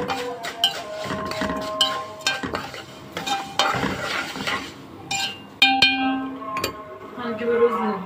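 Vermicelli frying in a pot ahead of adding rice, a steady sizzle with repeated stirring scrapes and clinks of a utensil against the metal, close up and fairly loud.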